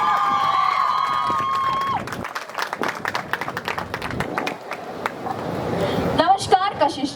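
Audience applause and some cheering rise to welcome a guest onto a Hindi talk programme stage, a dense run of claps lasting several seconds after a voice finishes speaking, then fading as more voices start.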